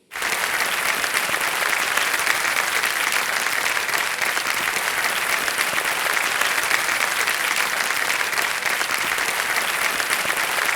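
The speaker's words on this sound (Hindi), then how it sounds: "जोरदार तालियां बज जाए कृति सैनान, राजकुमार राव।" A studio audience on the Kaun Banega Crorepati TV quiz show breaks into loud, sustained applause that starts abruptly and holds at full strength without talk.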